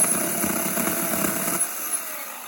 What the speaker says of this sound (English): That's not a bad little chainsaw.